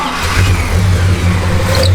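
A 1969 Dodge Super Bee V8 with a lumpy cam idles and revs just after starting, a loud close steady low rumble throughout with no talk over it.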